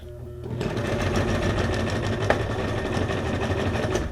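Sewing machine stitching a straight line across paper junk journal ephemera, a steady close mechanical whir that starts after a brief quieter moment and runs continuously to the end.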